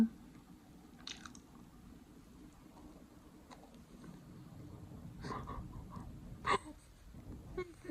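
Hard frozen food straight from the freezer is bitten and chewed, producing a few scattered crunchy bites over a faint, quiet background, with louder crunches toward the end.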